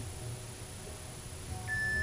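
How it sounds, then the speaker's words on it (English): A single clear electronic timer beep during an exercise routine rings out near the end, steady and sustained over a low background hum; no one speaks. "There's the beep."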